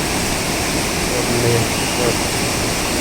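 Fast-flowing mountain waterfall along the Amarnath Yatra trekking route, a steady, loud, unbroken rush of water filling the scene from nearby with no pauses.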